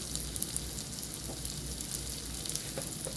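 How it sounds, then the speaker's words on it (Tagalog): Pinakbet vegetables sauté in a hot pan with a steady, close sizzle and crackle, faint light popping scattered throughout, no voices. "Para magisa siya sa maupay"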